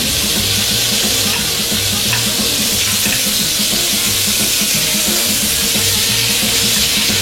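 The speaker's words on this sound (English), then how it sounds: "once it has the sear I'm looking for, put some butter in it." Butter sizzles loudly in a hot pan during searing, a dense, constant hiss with a bubbling pulse underneath, close up and with no talking.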